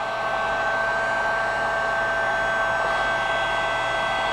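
A heat gun blows steadily on two-part epoxy in a garage during bodywork on a VW double cab, a constant close whirring hiss with no breaks and no talking.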